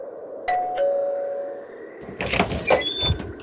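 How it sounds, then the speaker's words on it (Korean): A doorbell at an upstairs apartment door is pressed, giving clear electronic tones over steady background hum, followed by muffled knocking and shuffling noises near the door. "간신히 계단을 올라가 둘째 아들의 위층집 초인종을 누릅니다"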